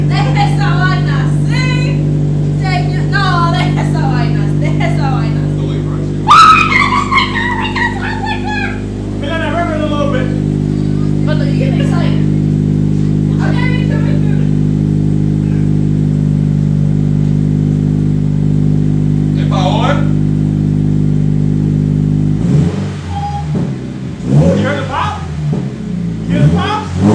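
A Hyper Blue Subaru BRZ idling with its muffler removed gives a loud, raspy, uneven drone. Brief revs spike early on, and people chatter over it until the engine cuts off near the end, leaving only voices.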